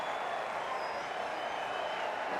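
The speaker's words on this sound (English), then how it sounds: "The crowd is electric right now." A steady, distant wash of applause and crowd noise rises from the stands in the cricket video game Cricket 24, a faint, even roar with no voices standing out.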